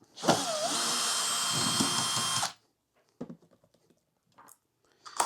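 A power driver whirs loudly for about two seconds as the final screw comes out of a cabinet chassis, then stops, followed by a few soft clicks and small handling knocks.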